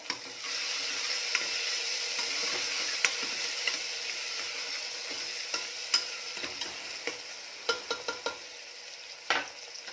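Onion and tomato fry in a pan for a vegetable curry, with a soft steady sizzle and clusters of light, clicking spatula scrapes that grow busier toward the end.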